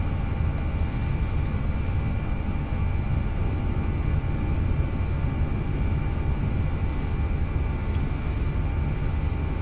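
Airbus A320 engines in the FSX flight simulator during a go-around, a loud steady roar with a constant whine, plus faint recurring warning tones, no talking.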